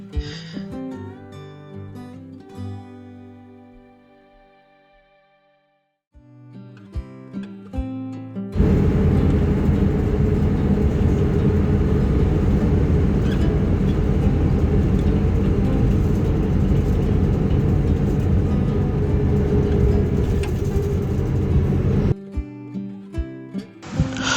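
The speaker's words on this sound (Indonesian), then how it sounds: "Bus yang kita naiki ini adalah Scania K250UB low deck dengan bodi Laksana." A Scania K250UB low-deck bus with a Laksana body, heard from inside on the Cawang–Cikarang run: a loud, steady broadband rumble fills the middle stretch, with music playing before and after it.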